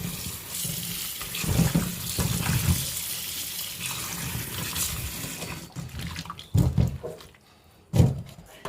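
Mushrooms washed under running water in a sink: a steady close tap stream with splashing, then a few thunks and handling sounds as the flow stops.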